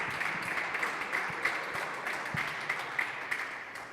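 A crowd at a handball match in Seattle applauds steadily, a dense wash of clapping lasting several seconds with no talk over it.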